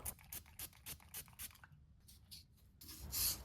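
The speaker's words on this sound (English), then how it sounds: "the next thing I'll do is go ahead and hand sand the blade" A forged bowie knife blade is hand sanded with 220 grit paper, quiet rhythmic rasping strokes repeating about twice a second, then a brief pause and a final harsher scrape.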